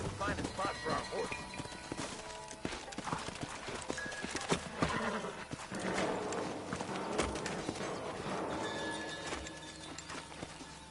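Horses in the video game Red Dead Redemption clip-clop steadily with occasional snorts and whinnies, hooves mixed into busy game sound, with voices talking.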